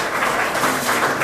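An audience at a college lecture on education in nation building applauds to welcome the chief guest, a steady, fairly loud wash of clapping throughout the short moment with no speech.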